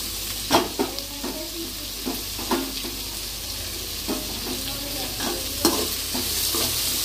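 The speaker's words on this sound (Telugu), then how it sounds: "క్యారెట్ వేసుకోవాలి." Carrots tossed into a hot pan for street-style veg noodles, a continuous sizzle with frequent spatula scrapes and taps against the pan, close up and without speech.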